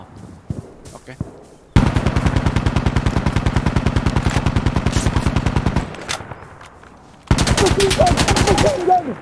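Sustained automatic machine gun fire from Insurgency Sandstorm, a long rapid burst of evenly spaced loud shots, a pause, then another burst with voices shouting over it.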